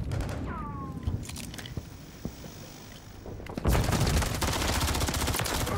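Team gunfire in Call of Duty MW3 ranked multiplayer: scattered single shots early, then a dense, loud burst of rapid fire filling the second half.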